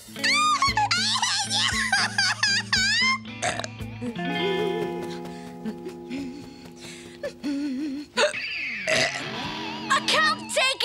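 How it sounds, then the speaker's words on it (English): Cartoon boy hiccupping repeatedly in an animated children's episode, with sharp short vocal bursts over busy music and other cartoon voices, loud and close throughout. "I've got to stop these hiccups!"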